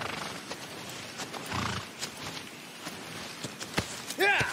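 In Shadow of the Colossus, a horse's hooves clop in an uneven walking rhythm through a forest, and near the end the horse lets out a clear, close neigh. Someone talks in places.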